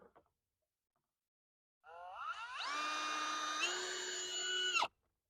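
A power drill boring a hole in the tailgate of a 2024 Jeep Wrangler Rubicon X 4xe: after near silence, one close whine ramps up in pitch and holds for about three seconds before stopping sharply.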